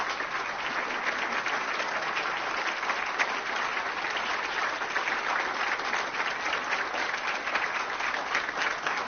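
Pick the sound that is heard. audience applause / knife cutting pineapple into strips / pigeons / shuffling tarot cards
audience applause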